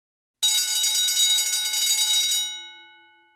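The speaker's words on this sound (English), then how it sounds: "The fire bell went off." A fire bell rings loudly and continuously for about two seconds, then cuts off and its metallic tone rings out and fades.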